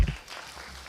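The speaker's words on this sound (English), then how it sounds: "a big round of applause for him" Brief burst of audience applause at an international chemistry conference's inaugural session, a dense wash of clapping that fades quickly within a second.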